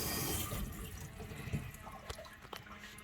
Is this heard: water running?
yes